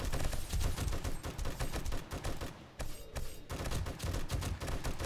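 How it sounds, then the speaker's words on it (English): Rapid, dense gunfire in 7 Days To Die Alpha 18 during a zombie horde night. Loud overlapping shots pause briefly partway through, then resume just as heavy. "I didn't really want to shoot the monster."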